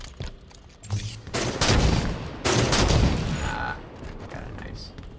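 Rapid bursts of gunfire and booming shots ring out in an online shooter match played with a sniper rifle, loud and dense over several seconds, then easing off.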